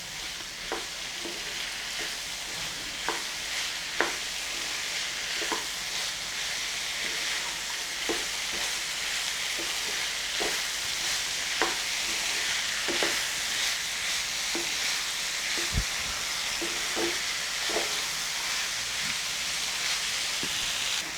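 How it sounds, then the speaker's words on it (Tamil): Chopped tomatoes sautéing with masala in a pan for a potato, capsicum and green pea curry, a steady soft sizzle with occasional light stirring clicks, close and moderately quiet. "சேர்த்துட்டு இது நல்லா வதக்கணும்."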